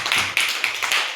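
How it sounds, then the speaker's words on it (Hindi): A group of children clapping hands together in a classroom activity session, a quick run of about five or six rhythmic claps, close and crisp, with no talk over them. "ताली बजा दो।"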